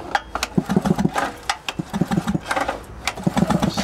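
Small engine generator running on biogas, its rapid pulsing exhaust beat steady and close for the whole stretch, with no voices over it.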